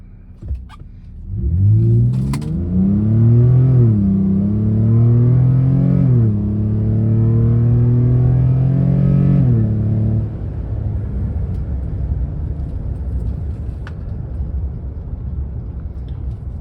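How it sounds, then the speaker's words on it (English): A 2022 Nissan Frontier with a MagnaFlow exhaust pulls away from a stop on a quiet road, its engine rising in a loud, deep rev through several gear changes for about eight seconds before settling to a low rumble. "now we're going to stop and accelerate down this quiet road"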